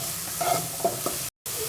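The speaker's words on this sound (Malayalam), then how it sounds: "ഈ പൊടിയും കൂടി ഇട്ട് ഇതൊന്ന് നല്ലപോലെ വഴറ്റുക." Spice powder sautés in a pan for sprouted green gram cutlets, a low steady sizzle with a couple of light stirring knocks, briefly cut to silence near the end.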